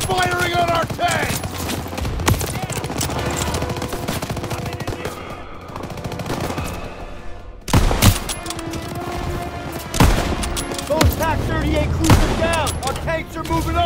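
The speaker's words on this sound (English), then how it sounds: "That Pack 38 still has a gunner! It's firing on our tank!" Heavy wartime gunfire in Call of Duty WWII, a Pak 38 anti-tank gun firing on a tank amid machine-gun bursts and loud cracking shots, with sharp blasts standing out and shouted voices over the battle.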